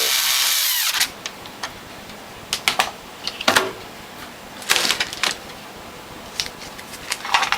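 Power drill driving a button head screw into the base plate of a WHF or Norwalk juicer, a loud whir at first followed by scattered short drill bursts and clicks, close by.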